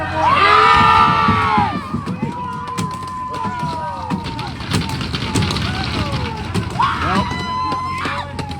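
Crowd at a youth squirt hockey shootout bursts into loud cheering and children's shouts, fades to scattered yells and chatter, then rises in another short cheer.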